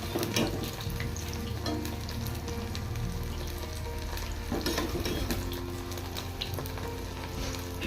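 Baby corn frying in hot oil over a medium flame, a steady close sizzle and crackle throughout with occasional stirring clatter.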